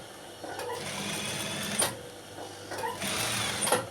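A sewing machine stitching fabric while making white piping trim, running in two short bursts of rapid mechanical whirring with a brief pause between them.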